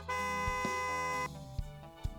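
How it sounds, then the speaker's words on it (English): A car horn blares in a long sustained honk, then gives a few shorter toots over road noise. "a car starts driving down the road towards him and honks the"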